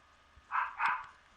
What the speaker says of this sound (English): Now she's hearing your dog and he's hearing your dog and he's gonna start fucking barking.